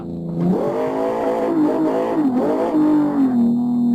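A BMW E30 with BBS wheels drifts in Live for Speed on a Logitech G29 wheel, its engine note climbing and dipping in repeated rev sweeps before holding a steady buzzing drone, loud and close.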